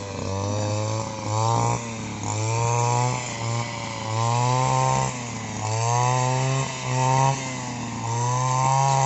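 A small two-stroke brush cutter engine, a Kanto model, runs steadily and loudly up close, its pitch rising and falling in repeated revving surges throughout.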